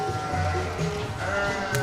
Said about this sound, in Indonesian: Ini kita lihat yang bur, yang udah pada jam makan, ini udah pada minta makan ini udah.